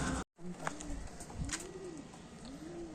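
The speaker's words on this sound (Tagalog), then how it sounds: "Yun mga kalapatids." Racing pigeons return to the loft during a race, cooing in repeated soft rising-and-falling calls that sound close, over steady outdoor background noise.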